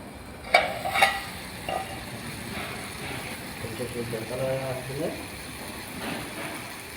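Salt is stirred into food frying in a pan, a soft continuous sizzle with scraping strokes and a couple of sharp clanks at the start, with a voice speaking over it.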